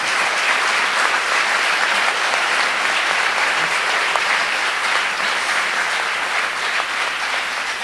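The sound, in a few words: audience applause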